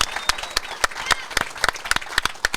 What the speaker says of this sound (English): Give a round of applause for them because they're here.